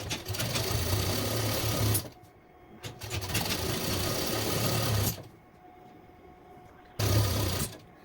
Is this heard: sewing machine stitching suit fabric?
yes